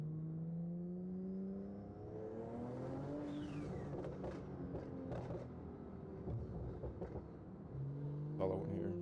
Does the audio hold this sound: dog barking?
no